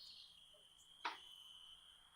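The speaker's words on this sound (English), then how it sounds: "apart from the really loud crickets that I forgot to turn down." Steady high-pitched cricket chirring fills the background at low volume, a continuous insect drone running through the whole stretch, broken once by a brief sharp click near the middle.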